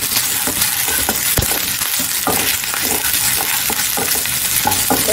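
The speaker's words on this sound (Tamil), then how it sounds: "போட்டு இதோட சேர்த்து நல்லா வதக்கிடுங்க" Onions with ginger garlic paste sizzle steadily in hot oil for rava kichadi. Close, loud frying hiss, with repeated scraping and clinking of a spoon stirring in the pan.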